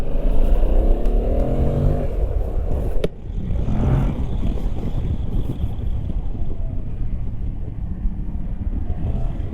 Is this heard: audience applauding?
no